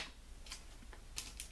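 A Mark Be Gone fabric marking pencil scratches across cloth for a sunglass case, a few quick light strokes in short bursts, close and quiet with no talking.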